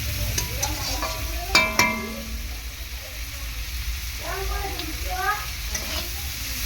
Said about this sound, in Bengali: তো মোটামুটি চিংড়ি মাছটা ভেজে নিয়েছি, খুব বেশি ডিপ ফ্রাই করবো না, হালকা করেই ভেজে নিয়েছি আমি।